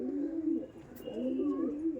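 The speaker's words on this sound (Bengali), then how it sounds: "গিরিবাজ পায়রা খুবই সুন্দর গিরিবাজ পায়রা" Giribaz pigeons coo close by in two soft, throaty phrases, one after the other, with a brief chirp in between.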